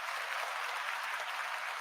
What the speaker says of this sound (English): Can we give Trent Williams a round of applause?